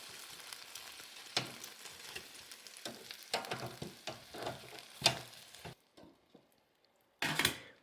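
Rosemary garlic chicken wings are flipped over in an air fryer basket, with a soft crackling sizzle broken by irregular clinks and scrapes, a short near-silent gap, then a final burst of sizzle.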